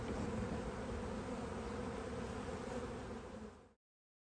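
A honeybee swarm makes a dense, continuous buzzing drone close by, holding steady for a few seconds before cutting off abruptly.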